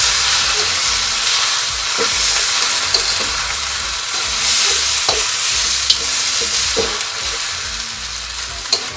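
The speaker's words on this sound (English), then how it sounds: "get in there with the sauce. And give it a toss." Rice noodles are tossed with sauce in a hot pan, sizzling and hissing continuously, with scattered scrapes and knocks of the utensil against the pan.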